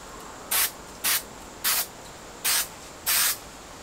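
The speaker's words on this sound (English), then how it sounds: "So we're going to spray along the spars." Coating is sprayed onto the spars and tip ribs of a balsa model airplane frame for a Science Olympiad Electric Wright Stuff build, five short, even hissing bursts close to the mic with brief pauses between them.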